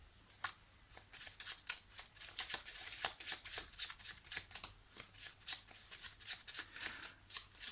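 Petit Lenormand cards are shuffled for a reading, a close, soft run of rapid riffling flicks repeating steadily throughout with no talk.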